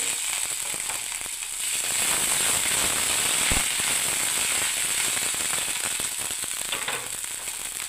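Ginger paste hits hot oil in a pan over a lowered gas flame, giving a steady, bright, close sizzle with fine crackling that keeps going evenly throughout.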